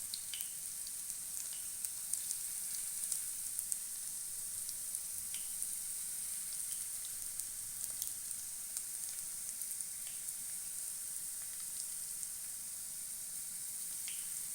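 Masala-coated ladies finger (okra) shallow-fries in oil, giving a steady, soft sizzle with scattered tiny pops and crackles, close by and unbroken by talk.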